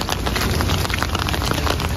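Heavy rain pours steadily during a severe thunderstorm in Canada, a dense, constant hiss of drops close by with no voices.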